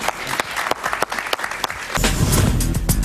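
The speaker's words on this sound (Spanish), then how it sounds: "Un aplauso para ella, por favor." A studio audience on a talk show applauds a guest author, with scattered claps giving way to a louder, fuller burst of applause near the end, all close by.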